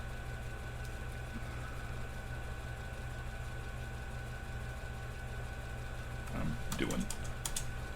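Keystrokes tap steadily on a computer keyboard beside a vintage Altair 8800 computer running CP/M, a faint continuous patter over a low machine hum, with a few louder clicks near the end.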